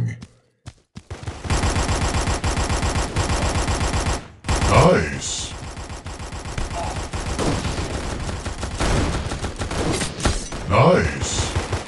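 Gunfire in the mobile shooter game Gun of Boom: sustained rapid automatic bursts, loud and close, broken by a brief pause, with a short spoken comment over the shooting.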